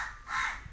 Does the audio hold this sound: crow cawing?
yes